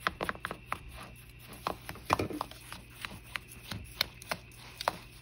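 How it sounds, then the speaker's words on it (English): A spoon stirs a mixture in a bowl, giving irregular soft clinks and scrapes with short taps at close range over a low steady hum. "let's stir"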